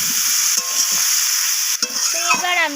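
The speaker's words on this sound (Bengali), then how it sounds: "তো লবণটা দেওয়ার পর আবারও আমি কষিয়ে নিচ্ছি।" Chopped vegetables sizzle steadily in hot oil in a pan as they are stirred, with soft scraping and clinks from the utensil, close up, while a faint voice hums briefly near the end.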